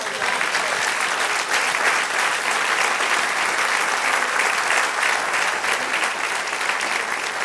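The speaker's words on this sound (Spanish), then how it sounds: "Denle un aplauso al Señor." A church congregation applauds, dense steady clapping filling the room for the full stretch, loud and even without voices.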